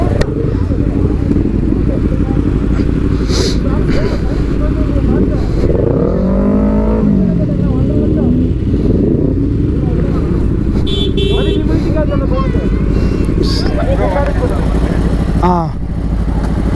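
A motorcycle, referred to as an R1, revs in a rev battle among a lakeside crowd at Kodai. Rising and falling engine whines stand out mid-clip and again near the end, beneath constant loud chatter and shouting.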